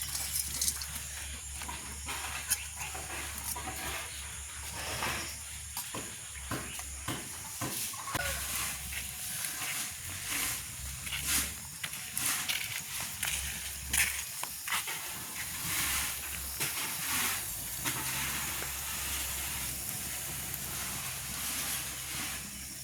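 Steam hisses steadily from a pot steaming rava puttu at an outdoor village cooking spot, a constant airy rush with faint clatter and background noise.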